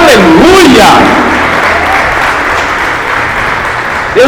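A Sunday church congregation breaks into loud, close applause during the service, a dense wash of clapping that starts strong and holds steady, with brief voices and cheers mixed in at the start.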